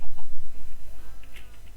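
A Minecraft chicken clucks in a quick, rhythmic series of short, loud bursts that fade slightly toward the end.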